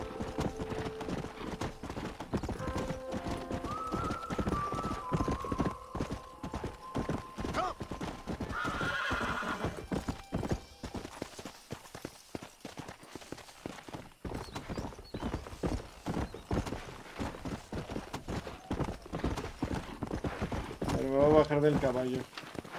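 Horse hooves clip-clop along with repeated neighs and whinnies in the Red Dead Redemption video game, heard under someone talking, with a loud whinny near the end.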